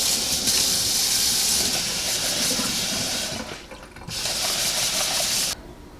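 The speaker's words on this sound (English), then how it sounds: "so I'm going to wash this and I will take it off of the stems." Tap water runs in a strong steady hiss while Italian parsley is rinsed, briefly dropping out, then gushing again before stopping abruptly.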